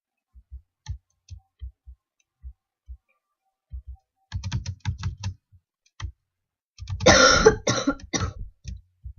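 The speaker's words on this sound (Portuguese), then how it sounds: "Tá muito ruim a minha tosse." A person with a bad cough, scattered single coughs and throat clearing at first, then a louder coughing fit, with near-silence between them.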